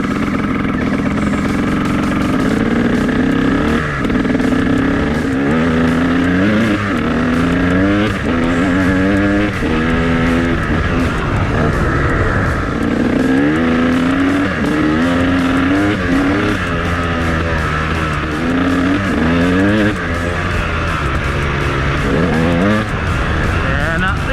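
A KTM 300 dirt bike engine warms up close by. Its loud two-stroke idle is broken by repeated revs that rise and fall continuously throughout.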